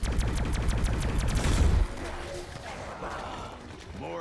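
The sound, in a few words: wonder weapon firing in Black Ops 4 Zombies video game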